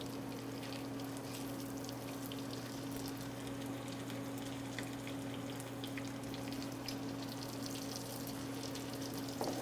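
Pierogi fry in hot butter in a non-stick restaurant frying pan, giving a steady, moderate sizzle with a low hum beneath, continuous throughout and with no voices.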